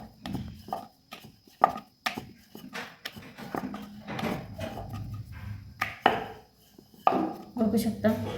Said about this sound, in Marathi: या प्रकारे आपल्याला पुऱ्या लाटून घ्यायचे